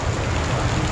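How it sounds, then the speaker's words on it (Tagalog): Heavy rain pours down steadily over farmland, a dense, even hiss that stays loud and unbroken throughout the short stretch, with no voices. "Kalakas ang ulan na eh."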